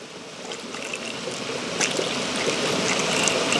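Water poured from a cup into the pipe of a floating ram pump, a steady rushing trickle that swells slightly toward the end, close and continuous with no talk.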